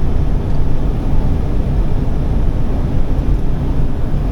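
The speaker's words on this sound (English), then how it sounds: "Look at the helicopter. I don't know if you can see it, but so low. How low it's flying." A helicopter flies low overhead above fields, heard as a steady, fairly loud broadband roar mixed with wind buffeting on the microphone. No voices are heard.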